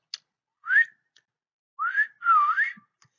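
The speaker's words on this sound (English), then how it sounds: "Listen for whistles," Beaufort dolphins whistle underwater in a few rising and wavering tonal sweeps, one short call and then a longer pair, clear against near-silence.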